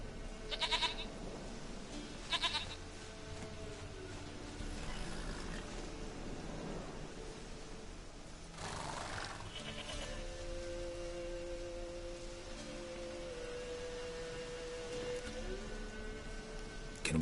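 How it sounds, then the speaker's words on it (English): A goat in The Witcher 3 video game bleats a few times against a steady ambient background of rain and hum, the short calls spaced apart and moderately close. "Goat of mine, dearest, sweetest goat."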